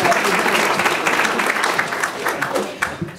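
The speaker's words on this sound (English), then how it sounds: "Todd Palmer, let's give him a big round of applause." An audience at an architecture biennial talk gives a warm round of applause for architect Todd Palmer, full and close, tapering slightly near the end with faint voices mixed in.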